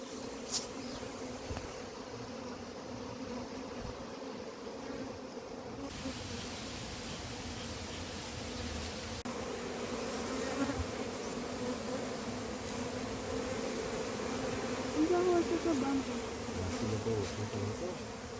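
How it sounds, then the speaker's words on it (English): A massive honey bee colony being removed from its hive and brood boxes, giving a continuous dense buzzing of many bees close by that swells slightly and runs steadily throughout. "There's still a lot of bees in there."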